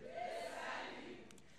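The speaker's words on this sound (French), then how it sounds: "La foule a encore dit « le salut »" A church congregation shouting together in French, a sustained faint roar of many voices at a distance that fades slightly toward the end.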